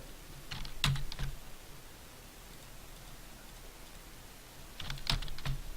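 Keyboard shortcut keys are pressed in two quick bursts of a few sharp clicks each, one near the start and one near the end, close and crisp over faint background hiss.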